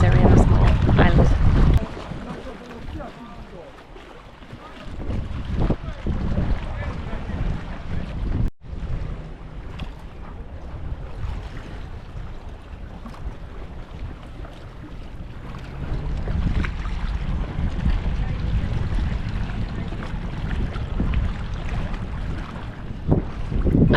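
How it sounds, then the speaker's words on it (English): A speed boat engine drones steadily over rushing water and gusty wind buffeting the microphone, with a brief drop-out partway through, on the coast near Zadar, Croatia. "We're now taking the boat and we're gonna cross this way"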